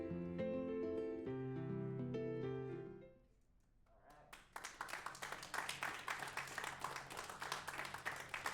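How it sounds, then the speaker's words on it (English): Music fades out, then a burst of applause and clapping rises and continues steadily, loud and close, filling the rest of the clip. "another round of applause"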